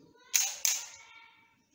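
A Canon EOS 60D DSLR shutter fires for a 2-second long exposure, two sharp close mechanical clicks about a third of a second apart that ring out and fade in a quiet room.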